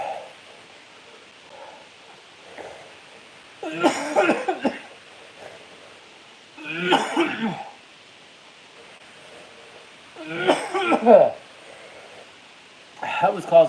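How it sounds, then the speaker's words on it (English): Harsh, raspy coughing fits come in separate bursts after eating a very hot pepper, each fit a few seconds long with quiet gaps between them. "That was causing some coughing"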